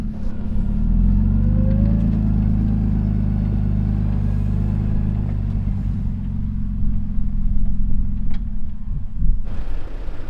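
A truck in deep Canadian snow, just freed after winching itself to a tree, runs with a loud, low, rumbling engine that holds steady and then revs unevenly as it moves.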